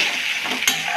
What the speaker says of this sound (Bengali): এটা কিন্তু ভালো করে আমি ভেজে নেবো